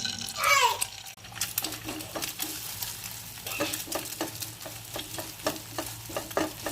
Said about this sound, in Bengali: টমেটো কুচি দিয়ে দিলাম। সামান্য তেল দিয়ে দিলাম, ডিম দিয়ে দিলাম।